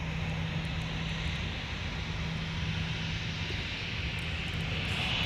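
A Delta Boeing 757-300 at MSP airport produces a steady, broadband engine roar, loud and continuous, with no voices.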